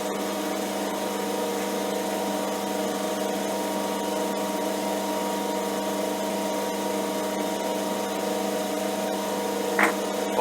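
Metal lathe turning a part while a drill bit held in the chuck bores into it, producing chips: a steady, close whirring machine drone with layered hum, constant level throughout, with a brief higher squeal near the end.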